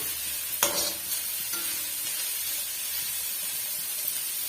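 Onions and whole green chillies sizzle in a hot pan for chicken gravy, a steady close hiss with a sharp scrape and clatter of a spoon stirring near the start and a few softer knocks after, with no talking.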